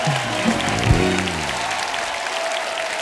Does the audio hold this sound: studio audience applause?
yes